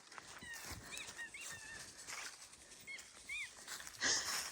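Dogs out in the woods, heard as faint, scattered high whimpers and yelps over rustling movement and a breezy outdoor background, with no talking.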